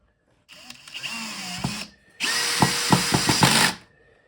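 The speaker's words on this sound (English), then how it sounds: "And I've got this on the lowest setting for the drill." A power drill on its lowest torque setting drives a screw into a wooden table frame in two bursts: a shorter whirring run, a pause, then a louder run with ratcheting clicks as the clutch slips.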